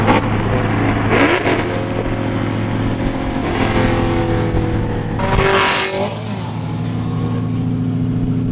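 A 2018 Camaro SS on a third-gear roll from about 60, its engine droning loud and close with rising pitch through the pull, punctuated by gusty wind bursts, then easing off near the end.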